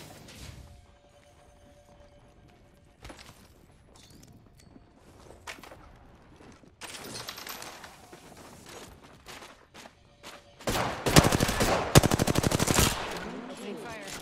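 Automatic gunfire in the Apex Legends video game: scattered distant shots and faint clicks at first, then rapid, loud machine-gun bursts toward the end, with a brief voice in the mix.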